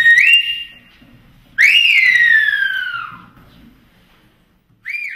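Loud whistled Silbo Gomero from La Gomera, the Spanish-based whistled language: two long sliding high whistles, the second falling gradually, then a short whistle after a pause, with no talk.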